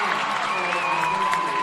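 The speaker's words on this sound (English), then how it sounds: "The Glenpool crowd going crazy" Glenpool fans roar at a high school basketball game, a dense, steady wash of cheering and clapping from a packed gym, loud and continuous with shouting voices mixed in.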